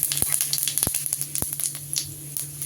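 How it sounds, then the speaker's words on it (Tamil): Fennel seeds splutter in hot oil in a pan for noodles, giving a close, loud sizzle broken by sharp irregular pops and crackles. "சோம்பு வெடித்ததுக்கப்புறமேட்டு"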